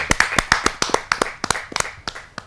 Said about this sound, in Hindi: जहाँ जोरदार तालियों के साथ हम उनका स्वागत करते